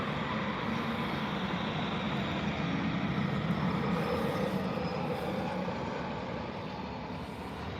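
Steady broadband roar of an EasyJet Airbus A320 arriving at Birmingham airport, loud and sustained throughout with a slight fade toward the end, no voices.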